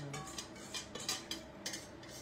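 A utensil stirs a mixture in a pan for a pistachio-raspberry yule log, making quiet, rhythmic scraping clinks against the metal several times in close succession with no speech.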